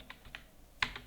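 A cheque number typed on a computer keyboard during accounting entry, four quick, soft key taps close by over a quiet room, no talking.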